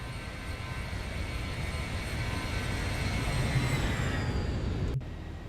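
Boeing 737-800 in the X-Plane 11 flight simulator passing by just after takeoff: a steady, loud jet engine roar with a rising whine that builds for about five seconds, then cuts off abruptly.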